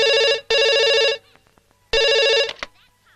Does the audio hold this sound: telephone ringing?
yes